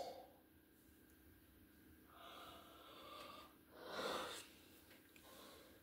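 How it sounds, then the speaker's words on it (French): A person gives one long, breathy yawn that swells to a peak near the end, close and quiet, with no speech over it. "Désolé pour ce bâillement désagréable"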